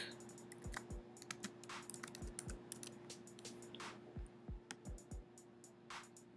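Typing on a computer keyboard while entering text for a DIY bridesmaid box design, a steady run of close, light key clicks in uneven bursts over a faint electrical hum.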